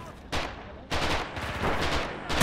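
Machine gun fire in Red Orchestra 2 with the Immersion Overhaul Mod, near and loud, coming in several sharp bursts that merge into sustained rattling volleys.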